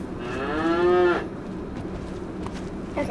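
A cow in the video game Fallout 3 lets out one long, close moo near a cattle pen, rising and then dropping off, followed by quiet game ambience and a few soft clicks.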